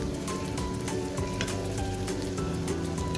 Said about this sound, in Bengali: পরে বড়াগুলো এপাট ওপাট করে একটু লাল লাল মুচমুচে করে ভেজে নিব।